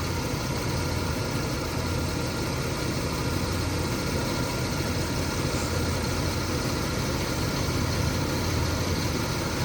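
A 1978 Lincoln Mark V barn find idles on its 460 V8, a steady smooth low rumble with constant vibration, close and unbroken, no voices.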